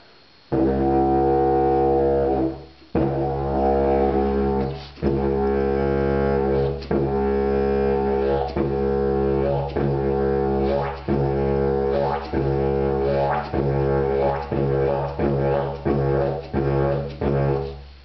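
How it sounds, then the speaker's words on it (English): A deep, buzzing didgeridoo drone played loud and close, repeatedly breaking off for short gaps as circular breathing lapses, before resuming in uneven pulses. "You create the drone and then you go for the circular breath and there's a little pause"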